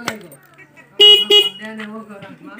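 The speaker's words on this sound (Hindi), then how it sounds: "इसमें सिंगल हॉर्न मिल जाता है आप लोगों को बजा के दिखाता हूँ" A Honda CB Unicorn 160 motorcycle's single horn honks twice in short, loud bursts, with someone talking quietly before and after.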